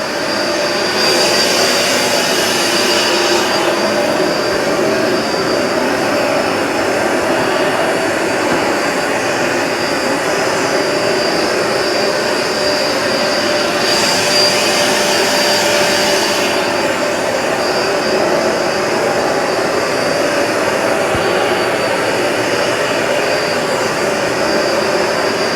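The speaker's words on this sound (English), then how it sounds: "the Smartwash is doing a very good job of cleaning." A Hoover Smartwash Pet XL carpet cleaner running on carpet, producing a loud, steady motor whine and suction roar with slight shifts in pitch as it moves.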